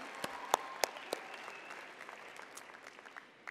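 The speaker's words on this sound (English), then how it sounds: "Everyone, please join me in applauding these outstanding graduates." Scattered hand claps from a university commencement audience honouring College of Education graduates, a handful of sharp distinct claps at first that thin into a soft, sparse patter, heard from a distance in a large hall.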